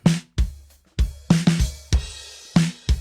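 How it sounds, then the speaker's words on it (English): A full drum kit plays a steady groove, dry with no reverb, with kick and snare hits alternating and cymbal wash ringing over them, no voices. "We'll bring the rest of the drums back in."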